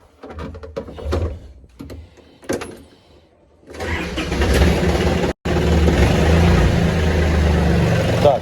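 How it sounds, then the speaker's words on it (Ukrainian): A few clunks and knocks, then the small engine of an Iseki TA227 Japanese mini tractor cranks and catches, settling into a loud, steady idle that runs on with a brief cutout. "Заводимо трактор."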